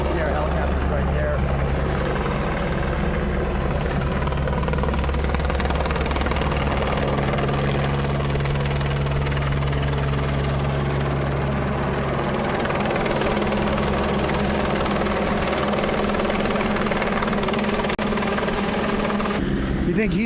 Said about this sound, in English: ACR helicopter's right there.